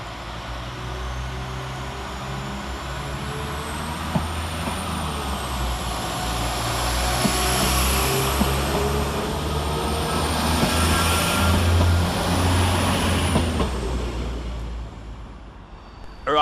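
A Northern Class 195 diesel multiple unit departs Manchester Oxford Road station on the service from Manchester Airport to Barrow-in-Furness. A steady engine drone builds and rises in pitch with a faint whine, then fades toward the end.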